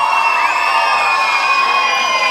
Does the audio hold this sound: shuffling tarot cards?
no